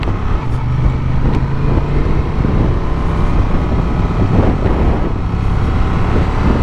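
A Honda XL750 Transalp motorcycle engine revs in a steady, loud, dense roar with wind buffeting the microphone, heard continuously with no talking.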